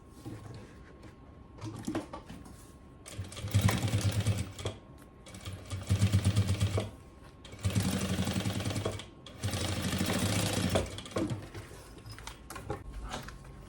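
A sewing machine stitches fabric bias binding onto a zippered multipurpose wallet, running in four close, loud bursts of rapid mechanical stitching separated by short pauses, with no talking.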